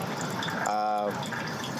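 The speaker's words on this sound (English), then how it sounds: "all that water is falling into this little vessel" Hot water pours through a paper coffee filter into a small vessel in a steady close trickle. A voice briefly overlaps the flow.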